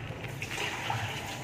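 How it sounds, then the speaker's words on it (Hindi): Water from boiled whole urad dal drains through a kitchen strainer, a steady continuous pouring gush held for over a second without pause. "जो दाल है मेरी बॉयल हो चुकी है, और मैं छन्नी रखी है मैंने"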